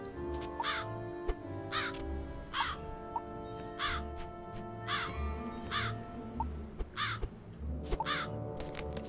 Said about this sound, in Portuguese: Olha esse corvo de novo